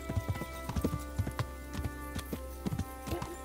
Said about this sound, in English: I also don't know why there's that random horse just stood there doing nothing.